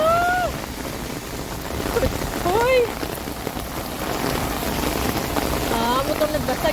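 Steady rain pouring down outdoors during a storm, a dense hiss with wind, while several people talk and exclaim over it nearby.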